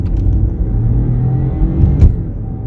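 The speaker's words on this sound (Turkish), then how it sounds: "tatlı bir hırıltı geliyor motordan" A 2019 BMW 118i with rear-wheel drive climbs a mountain road at full throttle, its engine note a steady, close, rumbling drone that builds as it pulls uphill, with no talk over it.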